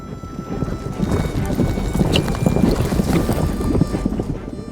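Horse hooves clip-clop steadily on a ranch in Crow Indian country, a dense, continuous patter of hoofbeats close by with wind buffeting the microphone throughout.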